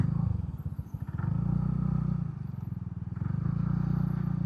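A TVS NTorq 150 scooter engine in street mode revs and pulls away, a close, loud, throbbing low drone that rises and dips across the few seconds, with no talk over it.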